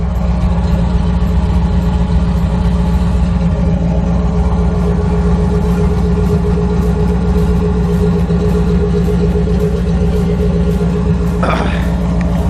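A 1991 C4 Corvette's deep, steady engine idles close by with a low rumble throughout, and a brief higher rev near the end.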